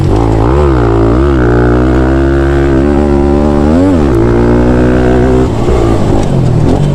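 A Thumpstar TSX140 dirt bike engine revs hard while being ridden on a track, its loud buzzing note rising and falling through throttle changes and gears, close and continuous.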